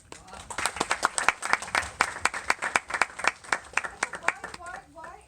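An audience at a special screening and song event claps in a brisk, fairly even rhythm of sharp, distinct hand claps, with a voice briefly audible near the end.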